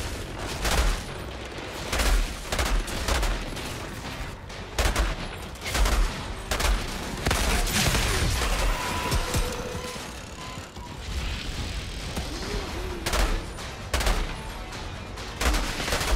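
Sustained gunfire from the Outriders game, with a Pyromancer fighting on World Tier 7: repeated loud bursts and rapid volleys come in clusters over continuous battle noise, with no voices.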